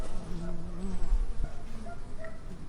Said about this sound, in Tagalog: Parang may mga bubuyog sa buhok ko.